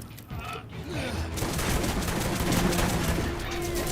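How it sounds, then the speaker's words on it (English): Gunfire in the Borderlands video game as a whole magazine is emptied into an enemy's turret shield: a dense, sustained fusillade of shots with mechanical clatter, loud and continuous after a short lead-in. "Emptied that mag into that dude's turret shield."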